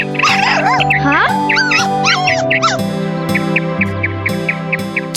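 A dog whimpers and yips in high, wavering cries over background music in an animated children's story, the whines repeating in short bursts.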